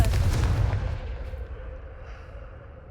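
A Confringo blasting spell explodes in Hogwarts Legacy, with a single heavy boom that rolls out into a long fading rumble.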